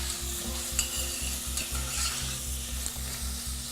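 Artichoke hearts frying in a pan with onions and garlic, a steady close sizzle with regular scraping strokes of a spoon stirring through the vegetables, no voices.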